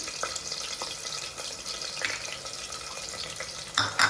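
Onions, green chillies and spices frying in oil in a pan, a steady close hiss and sizzle with faint stirring scrapes, and a louder clatter near the end.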